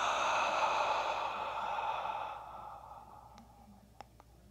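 A long, slow breath is pushed out through an open mouth as a soft, breathy exhale that gradually fades, followed by a couple of faint clicks, heard close and quiet during a supported single-arm reach exercise.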